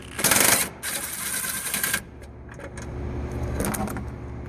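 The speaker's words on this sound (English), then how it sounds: "I'm using an impact gun instead of a hand socket because it's faster" An impact gun loosens a headlight bracket bolt on a 2015+ Toyota Camry, two loud close buzzing bursts of rapid hammering, then lighter clicks and a quieter third burst.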